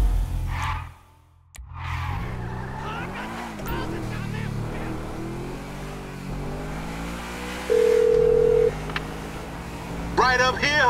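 Inside Grand Theft Auto V, one steady electronic phone tone sounds for about a second while a car engine drones and voices talk throughout.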